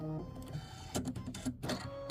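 An embroidery machine sewing a placement stitch on a quilt block, a quiet mechanical whir with quick rhythmic ticking and clicking stitches, close by and with no voices.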